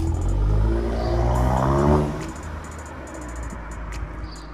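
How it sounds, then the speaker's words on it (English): A purple Audi TT MK3 fitted with an upgraded, souped-up exhaust pulls away, its engine note loud and rumbling up close before fading quickly into the distance. "Here goes Andy with his new souped-up exhaust."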